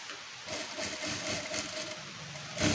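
A sewing machine stitches a blouse with a continuous, close mechanical whir that holds steady, then swells louder in a short burst at the end.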